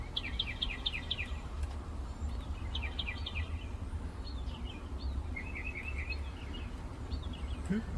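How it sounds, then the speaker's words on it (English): Several birds call in repeated quick chirping phrases at a moderate distance over a low, steady outdoor rumble. "Oh, here comes the blackbirds now."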